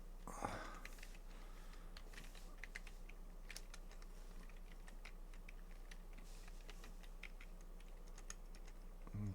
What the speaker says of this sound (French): Et là, nous allons taper.